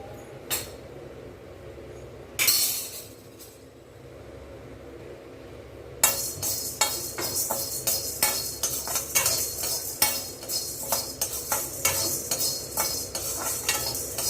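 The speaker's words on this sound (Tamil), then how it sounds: "நல்லா செவக்கு வறுத்துக்கோங்க அப்போ தான் கெடாமல் இருக்கும்" Green chillies and spices roasting in a kadai for a buttermilk curry premix, with a sustained sizzle and frequent clinks and scrapes of stirring that grow busier and louder partway through.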